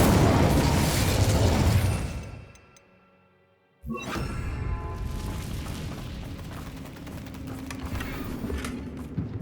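Incendio fire spell cast in Hogwarts Legacy: a loud roaring blast fades into near quiet, then a sudden sharp burst erupts into a sustained crackling, rumbling fiery roar.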